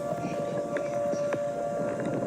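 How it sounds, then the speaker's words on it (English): Tornado warning sirens wailing in LaGrange, Kentucky during a tornadic storm, a faint, distant steady tone over wind and background noise. "the sirens are going off right now in LaGrange"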